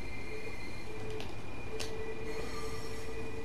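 A Class 377 electric train on the East Coastway in Train Sim World 2 rolls along steadily, with a continuous rumble and thin wheel squeal tones throughout.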